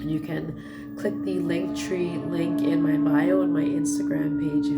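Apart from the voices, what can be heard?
None of the usual background noises is heard.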